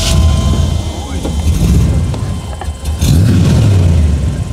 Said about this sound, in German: Starten wir mal den Motor.